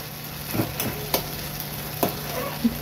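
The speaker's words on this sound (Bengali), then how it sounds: "পুরো ভাজা ভাজা করে ফেলবো।" Taro leaves fry in oil in a pan, drying out as they are stirred; a low, steady sizzle sits under a few sharp scraping knocks from the spoon against the pan.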